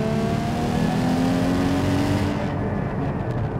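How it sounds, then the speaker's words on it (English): Porsche 718 GT4 engine blipping its revs to match a downshift while driving at about 55 mph, a loud, steady engine drone that swells and then settles, close and heard alone. "The auto blip, the rev matching that you get from the GT4 is so satisfying."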